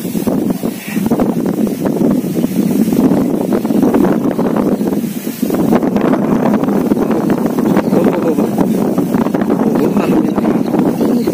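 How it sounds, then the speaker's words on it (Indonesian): Steady wind gusts buffet a peacock-shaped kite flying outdoors, a loud continuous rushing roar with a brief lull midway, close to the microphone. "angin bagus."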